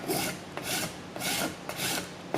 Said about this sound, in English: grab my file, continue doing the other edge